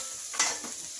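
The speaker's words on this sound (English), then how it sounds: "kind of saute it a little bit" Spaghetti sauce sautés in a pan while a spatula stirs it, making a soft, steady sizzle with one quick scraping swipe near the middle, close and quiet, without talk.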